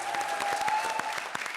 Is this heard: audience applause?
yes